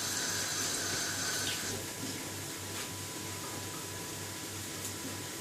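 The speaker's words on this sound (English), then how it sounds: "Wash my hands." Running water from a kitchen tap as hands are washed, a steady close hiss and splash with no talk.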